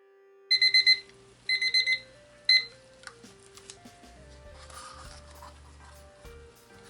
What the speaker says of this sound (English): we have our timer set for 5 minutes